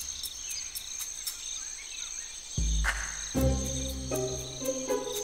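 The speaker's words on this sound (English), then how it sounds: "A cricket." Cricket chirping inside a venomous spider's den, steady high-pitched chirps repeating in a regular rhythm over natural ambience, with a louder rustling and a low thud partway through.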